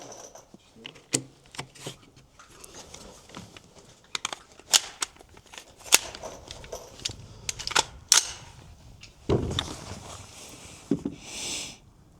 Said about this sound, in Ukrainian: роблю три постріли по лівій мішені